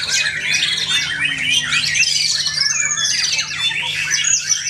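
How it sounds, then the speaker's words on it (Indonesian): Dense, loud song of a white-rumped shama (murai batu) called Rampes, a continuous stream of bright whistles, trills and squawky notes filling the whole stretch, with a steady low hum underneath. "Ini murai batu yang bernama Rampes guys"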